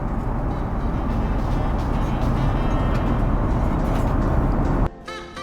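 Electric seat motor in a TAP Portugal A330neo business class seat driving the seat upright, a steady loud whirring hum against cabin noise that stops abruptly near the end.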